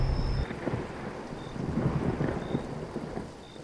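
Thunder rumbles across the sky in a rainstorm, a deep continuous roll swelling and fading over steady rain, with faint chirping calls in the background.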